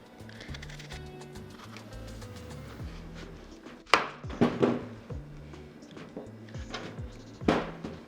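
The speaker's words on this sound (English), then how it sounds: "So you want to thinly slice the apples" A knife slices thinly through apples on a cutting board, giving a run of soft repeated cuts and taps with a few sharper, louder knocks near the end.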